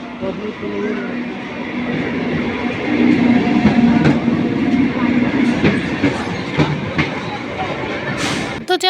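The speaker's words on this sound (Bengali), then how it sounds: "ট্রেন ঢুকছে আমাদের" A train rumbles into a station steadily with rhythmic clattering and occasional sharp clanks, loud and close, with faint voices underneath.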